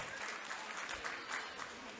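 Audience applause at a school annual function, a continuous even patter of clapping from a crowd, fairly faint and steady, with no talk over it.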